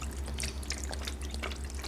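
Chicken broth is poured from a whole container into a cooking pot of Puerto Rican chicken stew, a close, steady liquid gurgle and splash with a low hum underneath.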